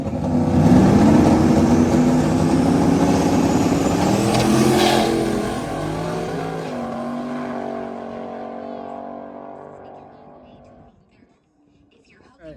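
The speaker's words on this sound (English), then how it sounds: "now we got a grudge race" A Ford Mustang accelerating hard in a drag race grudge match gives a loud, rising engine roar that fades as the car pulls away down the track. The roar is heard on its own.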